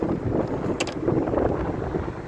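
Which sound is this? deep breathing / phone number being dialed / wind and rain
wind and rain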